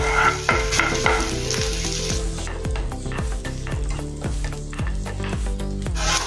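Chopped garlic and coarsely ground ginger frying in a pan for a veg Manchurian, with a steady loud sizzle broken by repeated rhythmic scrapes and knocks of a spoon stirring against the pan.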